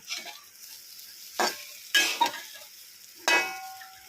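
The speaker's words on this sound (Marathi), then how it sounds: "मसालाही छान असा फ्राय झालेला आहे, कुरकुरीत मस्त" Spice masala fries and is stirred together with stuffed capsicums in a pan, a low sizzle punctuated by four distinct scraping strokes of a spatula against the pan.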